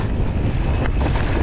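Steady low wind rumble buffets the microphone on a mountain bike trail at Pitfichie, a continuous blustery roar with no voices.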